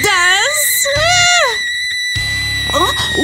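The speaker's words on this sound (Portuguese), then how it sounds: "Por que você está gritando?" A person screams in high, rising and falling bursts, loud and close, with breaks between the cries and a low rumbling background.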